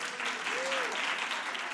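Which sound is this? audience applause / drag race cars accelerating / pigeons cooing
audience applause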